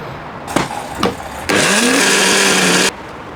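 A kitchen blender whirs loudly for about a second and a half, pureeing boiled and fried vegetables with red pepper flakes and olive oil, after a couple of short clunks as ingredients go in.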